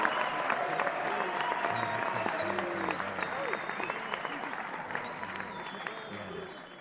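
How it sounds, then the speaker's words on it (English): Applause sound effect played over a live stream about coins and precious metals, a steady crowd-clapping texture lasting several seconds at moderate level, with faint background tones and possible voice underneath. "I got applause."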